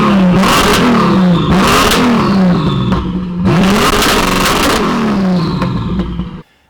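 An Audi with a VR6 turbo swap revs hard with its dump gates open, rising in two loud, long pulls with a rasping whoosh on top, then cutting off sharply at the end.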